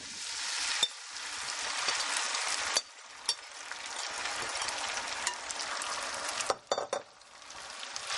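Shredded potatoes for hash browns hit hot canola oil in a pan and fry with a steady, loud sizzle, with occasional clinks and scrapes of a utensil against the pan and brief dips in the hiss.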